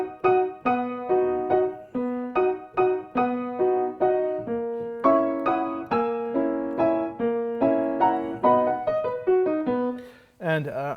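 Orchestral passage from Stravinsky's ballet Petrushka, the ballerina's livelier dance music: a steady, bouncy rhythm of repeated accented chords with bright melodic lines, played loud and continuous with no talking.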